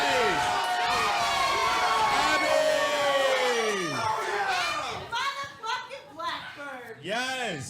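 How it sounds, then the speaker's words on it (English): A crowd cheering, whooping and yelling in loud, overlapping shouts that rise and fall, fading into scattered calls and laughter toward the end. "The crowd goes wild."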